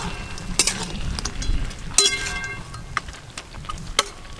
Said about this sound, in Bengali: ভেজে রাখা বড়ি দেব এবার।